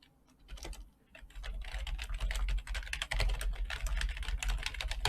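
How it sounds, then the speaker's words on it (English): Rapid, steady clatter of fingers typing on a computer keyboard to send an instant message, close and fairly loud, continuing unbroken after a brief pause, with no voices. "I start the entire thing by typing on instant messaging to the team leader"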